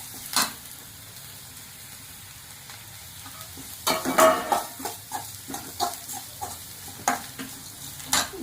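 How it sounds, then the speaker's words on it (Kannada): Turmeric, coriander powder, chilli powder and garam masala fry in oil in a pan for a ridge gourd stir-fry, giving a quiet steady sizzle with scattered stirring scrapes and clinks, alone without talk. "ಈಗ ಆಯಿಲಲ್ಲಿ ಒಂದು ಸ್ವಲ್ಪ ಫ್ರೈ ಆಗಬೇಕು."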